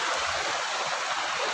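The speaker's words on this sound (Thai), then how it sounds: "บรรยากาศริมน้ำตก" Water rushes steadily from a waterfall and stream at a riverside spot in the forest, a dense, continuous roar close by with no voices.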